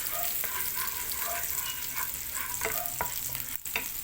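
Garlic, onion and tomatoes sauté in a pan for Filipino adobong gulay, sizzling steadily up close with occasional scrapes and clicks of a spatula stirring, no voices.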